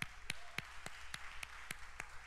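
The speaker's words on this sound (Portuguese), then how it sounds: "Uma salva de palmas para eles." A church congregation applauds a newly married couple, Ed and Sara: sharp individual claps sounding in a steady, fairly regular rhythm, moderately close and a little sparse, with no talking over them.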